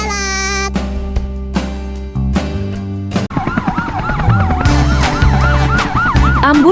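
An ambulance siren sounds loud and close after a few short tones, its pitch sweeping and warbling over the last few seconds.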